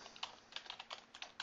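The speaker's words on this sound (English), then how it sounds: "we'll press return and we'll type margin" Rapid keystrokes on a computer keyboard while writing web design code, a close, uneven run of sharp clicks and taps with short pauses between bursts.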